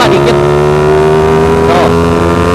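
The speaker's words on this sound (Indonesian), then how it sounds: "Pengen ngebetot gas sedikit sih, cuman kayaknya gelap ya." A bored-up Suzuki Satria Fi150 motorcycle revs loudly on a dark public street in Kemayoran, its engine holding a strong steady tone with a slight rise in pitch, close and without talk.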